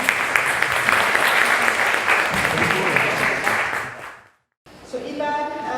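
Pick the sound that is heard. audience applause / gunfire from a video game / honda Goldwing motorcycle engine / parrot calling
audience applause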